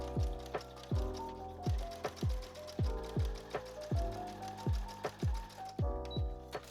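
A sewing machine runs a basting stitch along the bottom edge of a dress, giving steady mechanical thumps in a regular rhythm with a whirring hum, close and clear, with no talking.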